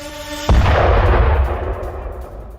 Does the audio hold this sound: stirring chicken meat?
no